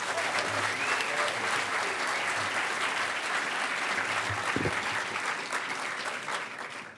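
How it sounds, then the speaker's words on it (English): Sustained applause from a hacker conference audience at a closing ceremony, steady dense clapping for about seven seconds before tapering off at the end. "Give him a huge round of applause."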